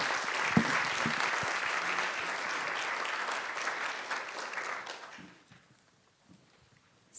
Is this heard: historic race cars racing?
no